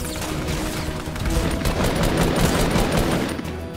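Rapid automatic gunfire in the video game Fortnite, a dense loud burst of overlapping shots that swells in the middle and stays continuous throughout.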